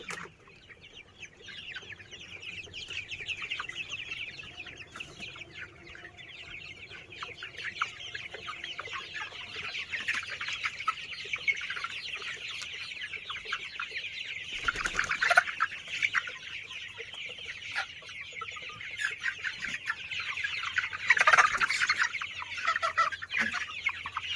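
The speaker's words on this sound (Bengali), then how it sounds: "এই যে মোরগ আছে এখানে, বুঝেছেন, প্রায় সব মোরগ, সবই মোরগ আছে" Sonali super hybrid chickens and roosters clucking continuously in a poultry shed, a busy low-level chorus of overlapping clucks with a couple of louder bursts.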